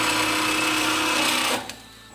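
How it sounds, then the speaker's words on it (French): A Sidamo SR 263 DG DAV band saw finishing a cut on its own: a steady, close mechanical whir and hum that cuts off abruptly as the machine stops, leaving a faint residual hum. "Je n'ai qu'à attendre que ma machine finisse la coupe d'elle-même."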